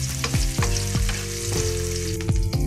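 Onions sautéing in a hot pan for a chicken kaldereta, a loud continuous sizzle broken by repeated clanking strokes of a utensil against the metal, with no talking.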